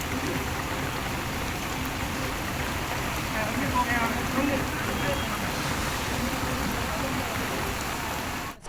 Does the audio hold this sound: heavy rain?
yes